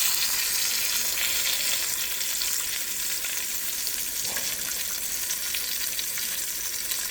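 Beef short ribs, seasoned with ground black pepper, sear in a hot pan with a steady, dense sizzle that holds evenly throughout, close and fairly loud, with no talking.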